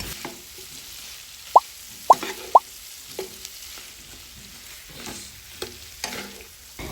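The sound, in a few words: stirring fried chicken feet and wings in spicy sauce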